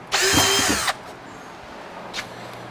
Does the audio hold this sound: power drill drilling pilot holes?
yes